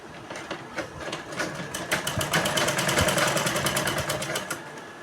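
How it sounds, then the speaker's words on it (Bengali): A sewing machine runs close by, stitching the side seam of a baby dress in a fast, even rattle of needle strokes that speeds up and holds steady. "এবার দেখুন আমাদের এখান থেকে আমরা সাইডের সেলাইটা করে নিচ্ছি"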